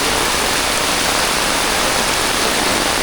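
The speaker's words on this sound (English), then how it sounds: "there's a waterfall down here on the road" Roadside waterfall in Kerala, a steady, dense rush of falling water that fills the whole clip evenly and loudly, with no voices.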